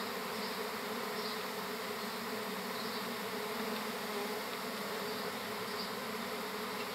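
Honey bees buzz inside a hive during a secondary swarm with a single queen, a dense, steady drone that stays constant throughout with no voices.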